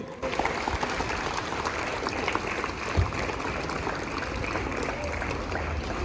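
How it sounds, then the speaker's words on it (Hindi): Children at a school Independence Day celebration clap for the performances, a continuous wash of applause held at a moderate level throughout, with a single brief knock partway through. "सबके लिए एक जोरदार ताली हो जाए बच्चों"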